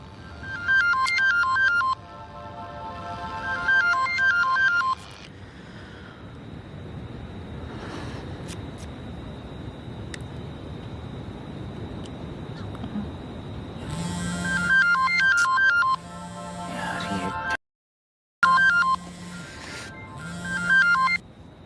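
A mobile phone ringtone plays repeatedly for an incoming call in a Hindi-dubbed South Indian film, bursts of a bright electronic melody starting and stopping with quieter stretches and a short silent gap between rings.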